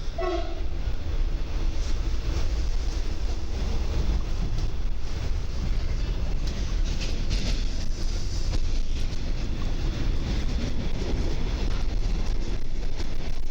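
A Koleje Mazowieckie double-decker commuter train rolls between Warszawa Zachodnia and Śródmieście, a continuous rumble of wheels and carriage noise with a brief horn-like tone at the start and wind buffeting the microphone.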